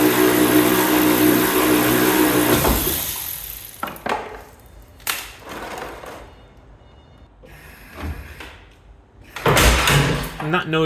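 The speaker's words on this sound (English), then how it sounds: "And that noise was just one of the brake pipes which had got caught" A loud mechanical rumble cuts off, then scattered sharp metallic clunks and scrapes as a snagged brake pipe yanks free during an Alfa Romeo 156 shell swap, ending in a burst of heavy grinding noise.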